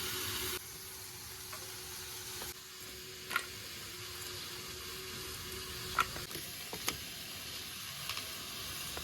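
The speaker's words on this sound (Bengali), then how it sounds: "যতক্ষণ বেগুন আর আলুটা ভাজা না হচ্ছে" Eggplant and potato frying in a pan, a faint, even sizzling hiss that runs throughout, with a few soft clicks and taps from stirring, distant in level and with no talk.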